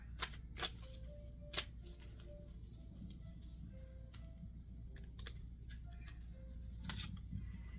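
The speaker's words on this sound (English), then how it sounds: "We're going to draw for a spirit animal card here." Tarot spirit animal cards being shuffled and drawn, quiet papery slides and sharp card snaps in an irregular rhythm, close and soft, with faint brief tones in the background.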